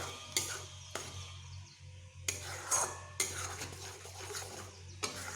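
A spoon stirs thick ridge gourd paste in a pan, giving soft scraping strokes broken by several sharp metallic clinks against the pan, quiet and close, with no voices.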